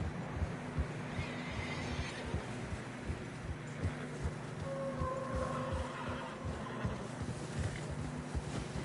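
A horse in Red Dead Redemption 2 neighs partway through, a drawn-out whinny over rhythmic hoof thuds in fresh snow and blowing wind, moderately close.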